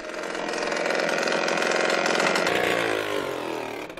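A circus stunt motorcycle's engine runs loud and steady at close range, a continuous buzzing drone with shifting pitch as it begins to climb a wooden ramp at an outdoor show.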